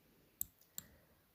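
A computer mouse gives a quick double click, two crisp faint taps about a third of a second apart, close and alone in an otherwise quiet room.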